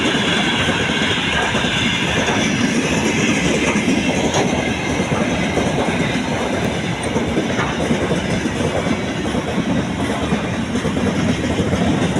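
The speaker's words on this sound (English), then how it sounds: "a smoking ghost train was spotted rolling through Germany" A driverless, smoking runaway train rolls steadily along rails in Germany, giving a continuous dense rumble with rhythmic clickety-clack of wheels over joints, loud and close throughout with no voices.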